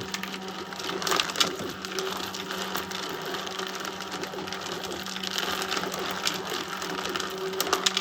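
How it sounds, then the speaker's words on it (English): An American 180 automatic drum loader runs with a steady whirring, clattering mechanical hum, close and moderately quiet, holding an even pace throughout with no talking. "As the loader reaches capacity of the drum, it will slow down here in a moment."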